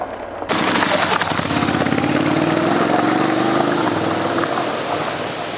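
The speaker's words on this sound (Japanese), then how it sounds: "先ほどからトラクションコントロールがかかっているのは音からも伝わったんじゃないかと思います。" Honda X-ADV motorcycle with a 270-degree crank engine riding on gravel in a gravel traction-control mode, a loud steady engine drone with a rising pitch and crunching, rattling texture over the full clip, no talk.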